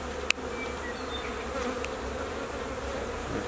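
Honey bees buzz steadily during removal of a hive from a ceiling, a dense swarm hum close by, with one sharp knock near the start.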